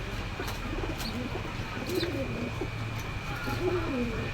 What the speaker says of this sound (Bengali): খুব সুন্দর কোয়ালিটির কবুতর